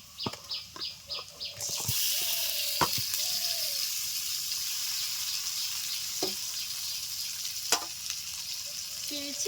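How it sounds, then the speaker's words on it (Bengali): Chicken pieces go into a hot pan for Bihari-style chicken curry and a loud, steady sizzle of frying takes over, with a few clinks and faint tones before it. "এখন মাংস দিয়ে দিচ্ছি"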